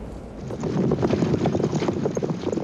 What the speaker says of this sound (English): Each chariot was pulled by 2 horses and carried 2 men